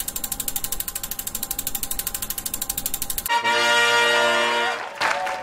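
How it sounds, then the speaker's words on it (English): A prize wheel spun for a giveaway ticks rapidly and steadily, a fast even clicking for about three seconds before a louder sustained tone and a brief final burst take over. "I will give you a bonus wheel spin on the prize wheel"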